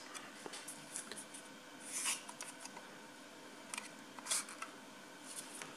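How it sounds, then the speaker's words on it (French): Foam darts pushed into the rotating spring-loaded barrel of a Nerf Worker Hurricane blaster, quiet plastic clicks and soft rattles with a couple of sharper snaps, close and faint. "je vais prendre mes fléchettes, je vais les mettre dedans"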